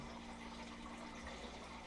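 Steady rushing water from water wheels in the Icarus survival game, a continuous broadband gush with a low hum beneath, constant and fairly close, no voices.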